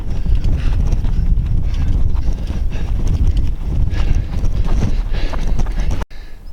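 Hooves of cows walking in a herd on a camping trip clop and shuffle steadily up close, a loud, continuous trampling that cuts off abruptly near the end.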